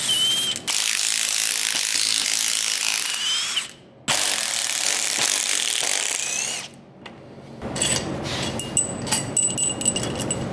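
A ratchet wrench loosens the cylinder head bolts on an LS engine being built for a Miata, making loud, close, rapid clicking bursts separated by short pauses, with lighter metallic handling clinks near the end.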